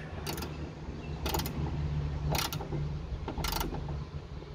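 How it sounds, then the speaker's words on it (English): Bolt for the rear badge of an Alfa Romeo 147 GTA being tightened by hand, giving four short, sharp ratcheting bursts at roughly one-second intervals over a low steady hum, close and fairly quiet. "we're just gonna tighten up the bolt for the new badge."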